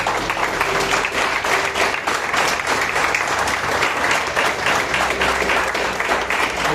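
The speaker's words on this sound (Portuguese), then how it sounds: "Você pode aplaudir ao Senhor?" A church congregation applauding during a worship service, a full, continuous roar of clapping from many people with a faint low hum beneath and no voices on top.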